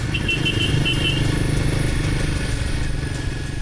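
Royal Enfield Himalayan 450 motorcycle riding over rocky, muddy terrain in the rainy season, with a steady, moderately loud engine drone and some clatter running throughout, and no talking.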